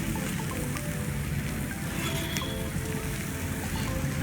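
Onions sautéing in oil left over from frying fish give a steady, dense sizzle with soft stirring scrapes, close and continuous, with no voices over it.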